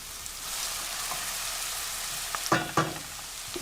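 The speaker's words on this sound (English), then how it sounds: "I just have to drop the fish in at the last moment and it cooks gently" Fish simmering gently in sauce in a pan gives a steady soft sizzle and bubble throughout, with a couple of louder clinks or spoon stirs near the end.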